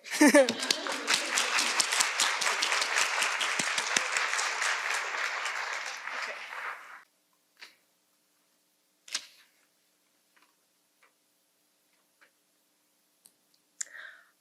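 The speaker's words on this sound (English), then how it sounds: "Let's all give her a round of applause." Audience applause at a women-focused panel event, a dense burst of clapping for about seven seconds that cuts off abruptly, followed by near silence broken by a few isolated clicks and small noises.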